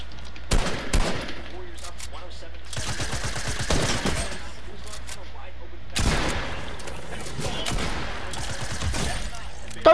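Bursts of SMG fire in a shooter video game, rapid loud rattling volleys in several separate strings with pauses between, while players talk over the action.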